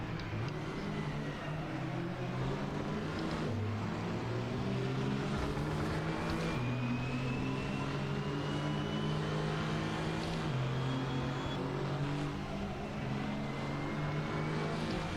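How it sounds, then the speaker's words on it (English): GT4 race cars with mid-engine layouts roar around a circuit in Assetto Corsa, several engines droning and shifting pitch together in a continuous loud pack with no talking. "those mid-engine cars absolutely leave me through that corner."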